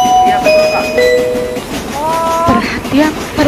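A train horn sounds in sustained tonal blasts over a rumbling rail background, with a second rising horn call later and a voice speaking faintly underneath.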